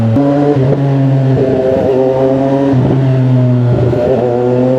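A 2025 CFMOTO 675SR-R sport motorcycle engine runs loud and close, holding a steady idle with a few quick throttle blips that rise and fall.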